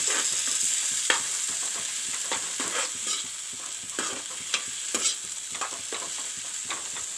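Masala for a mixed vegetable ghanta tarkari fries in a pan, a steady sizzle broken by frequent scraping strokes of a spoon as it is stirred, close and moderately loud throughout.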